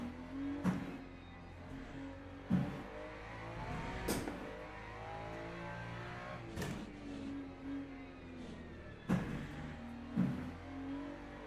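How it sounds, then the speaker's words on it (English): A Lamborghini race car engine in Le Mans Ultimate at Fuji, revving and accelerating through gear changes, with sharp spikes at each shift and a rising drone between, moderately loud with no talking. "Now the Lamborghini is definitely picking up speed."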